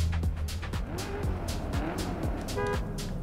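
A Chevrolet Corvette in a driving video game roars loudly and steadily, its engine pitch sweeping up and down through revs, with squeal-like tones near the end and no one talking.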